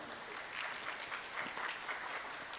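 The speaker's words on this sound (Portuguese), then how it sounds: "Uma salva de palmas enquanto ela se organiza para vir falar." Audience applause at a university postdoctoral researchers' meeting, a steady wash of clapping from a seated crowd that holds fairly even and moderately quiet for the whole stretch, with no voices over it.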